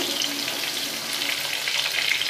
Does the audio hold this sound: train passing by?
no